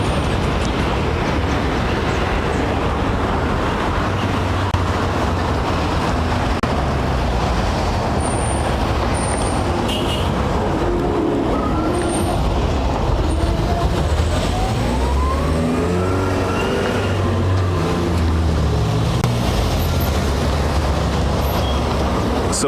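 Continuous morning road traffic outside in Grenada, a steady broad roar of passing vehicles with a rising, siren-like tone partway through and occasional higher whines, heard alone without talk.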